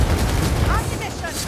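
Heavy gunfire from a Skaven Ratling gun in Warhammer Vermintide 2, a dense booming fusillade that fades into lighter rattling and game effects.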